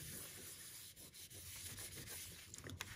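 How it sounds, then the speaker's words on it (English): A Kleenex tissue rubs chalk off a card in a steady, quiet scrubbing hiss with small strokes, continuing with no talk. "the magic of a Kleenex, and we're just going to rub that off"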